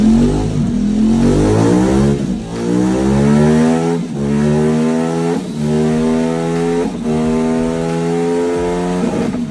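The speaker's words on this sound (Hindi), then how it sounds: "सबसे पहले साउंड आता है KTM की 1390 सुपर ड्यूक का।" A KTM 1390 Super Duke motorcycle engine revs hard several times in a row, each loud rising rev followed by a dip, close and continuous for nearly ten seconds.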